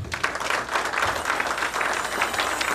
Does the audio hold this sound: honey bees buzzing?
no